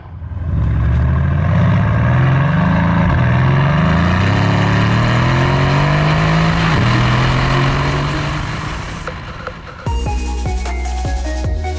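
Mercedes C63 AMG with a modified exhaust and 624 bhp revving hard, its loud, close engine note climbing in repeated surging pulls, then dropping back abruptly to a lower, steadier burble near the end.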